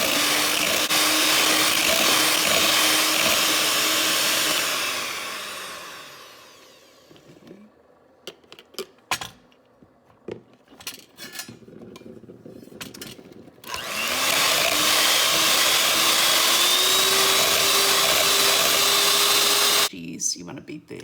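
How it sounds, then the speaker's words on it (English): An electric mixer whirs loudly as it beats egg yolks and cream cheese for keto cloud bread, running for several seconds, stopping for a quieter stretch with clinks, then starting again with a rising pitch. "You want to beat the egg yolks and the cream cheese until they are smooth."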